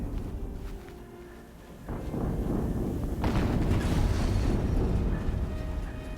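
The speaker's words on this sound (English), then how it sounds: "Another explosion." An explosion in the video game Horizon Zero Dawn: a sudden rumbling burst followed by a second louder blast, leaving a dense, roaring, crackling wash of debris that lasts several seconds.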